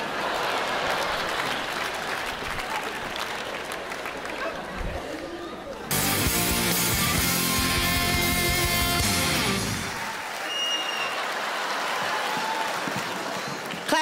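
Audience applause at a stand-up comedy show, a broad crowd clapping that swells to a louder burst partway through and then falls back to murmuring, with a voice speaking over parts of it.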